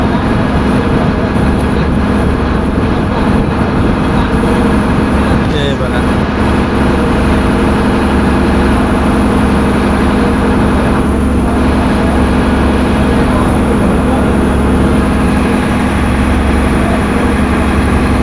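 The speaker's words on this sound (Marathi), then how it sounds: "ही परत दुसरी निघाली बघा बोट" A boat engine drones steadily and loudly as the vessel pulls away near the Gateway of India, a constant low rumble filling the whole stretch with voices faintly mixed in.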